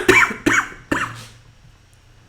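Three harsh coughs from a person, close and loud, spaced about half a second apart, the last trailing off into quiet room tone with no speech.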